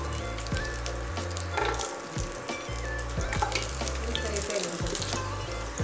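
Ginger and garlic frying in oil in a kadai: a dense, continuous close-up sizzle with crackles and occasional stirring scrapes, and a low rhythmic hum underneath throughout.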